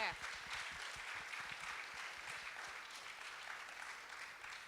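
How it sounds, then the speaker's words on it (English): An audience gives After the Fire a round of applause at a public forum on climate-resilient rebuilding: a steady, fairly soft wash of many hands clapping that lasts throughout, with no voices over it. "So can we give After the Fire a little round of applause"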